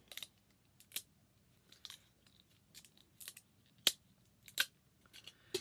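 Scotch tape being pulled and wrapped around ribbon at the bottom of a papercraft piece, heard as scattered short crinkles and sharp ticks, quiet and close.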